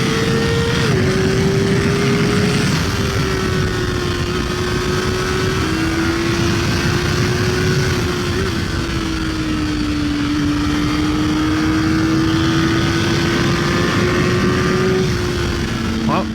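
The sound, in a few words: Kawasaki ZX4RR motorcycle riding at wide open throttle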